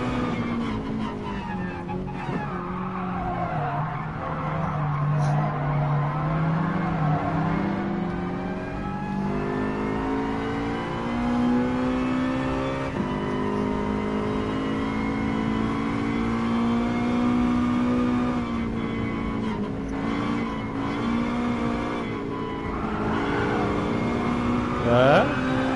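A racing car revs hard with rising and falling engine pitch and skids, a loud, continuous run of high-revving engine noise lasting about twenty-five seconds.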